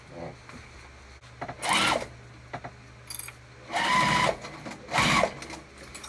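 A sewing machine stitches around the edge of a crossbody bag in several separate bursts of whirring runs, close and clear, with brief clicks and pauses between the runs.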